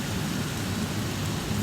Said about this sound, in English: Check this out. It's raining,